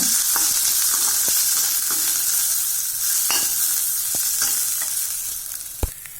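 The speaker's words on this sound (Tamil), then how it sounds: "பூண்டை வறுக்கலாம். நல்லா சிம்மில் வச்சு கொஞ்சம் வருங்க." Unpeeled garlic cloves fry in sesame oil over low heat, a steady close hiss of sizzling broken by occasional scrapes and taps of stirring, without any voices.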